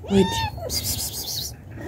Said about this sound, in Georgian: ვაიმე რა როგორ ჩხავიან როგორ კატები ვითა ჩხავიან